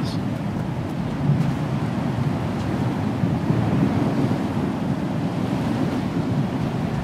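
Wind in the video game Star Citizen roars as a steady, low, buffeting rush in a frigid setting, continuous and fairly loud throughout.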